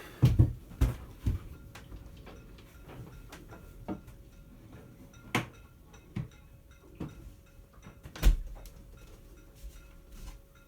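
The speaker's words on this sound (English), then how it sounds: "So here's what it looks like when you close the doors from the inside." Wooden cabin doors on an Albin Vega 27 sailboat being closed from inside: a series of sharp knocks, clunks and thuds at irregular intervals, close by, over a faint steady tone.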